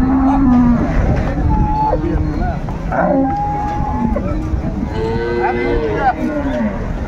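Cows and calves moo repeatedly at a livestock market selling improved-breed dairy cows, several drawn-out calls near and far over a busy crowd murmur.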